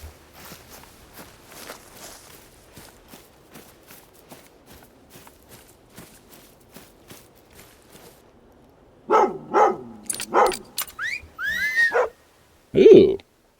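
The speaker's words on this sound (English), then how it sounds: "So we'll wait for our dog to come over here and do some tracking." Steady footsteps crunch through terrain before a hunting dog in theHunter: Call of the Wild barks several times close by, then yips and whimpers, ending with one more sharp bark.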